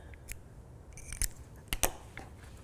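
Scissors snip through yarn while a small crocheted amigurumi ghost is being fastened off, giving two or three short, crisp cuts close up in a quiet room.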